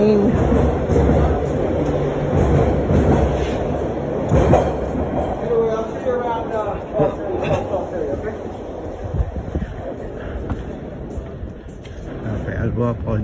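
A subway train rumbles and screeches loudly through St. Clair station on Toronto's TTC, with voices talking faintly in the background.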